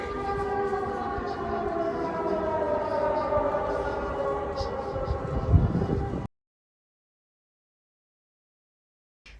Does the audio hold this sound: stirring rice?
no